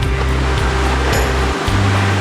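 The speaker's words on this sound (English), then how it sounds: "And another creek crossing." Van driving through a creek crossing in a forest, loud rumbling engine and rushing, splashing water throughout, with no voices.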